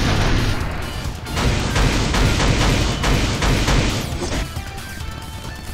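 Ghost Panther's attack in Marvel Future Fight sets off a huge, loud explosion, a crashing boom followed by a dense burst of smashing impacts and crackling debris that fades toward the end.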